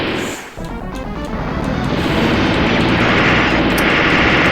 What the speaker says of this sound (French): il faut détruire le premier hélicoptère